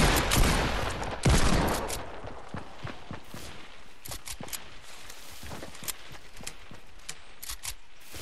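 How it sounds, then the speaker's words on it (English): Video game gunfire in a shooter match: dense bursts of rapid shots and rattling automatic fire, loud and close at first, then continuing as repeated cracks and volleys with no talk. "they're shooting at me, hiding in the corner"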